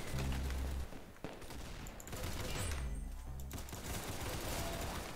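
Rapid, dense gunfire rattles almost without pause in a Roblox shooter game, with loud overlapping shots and bursts that keep a constant barrage going.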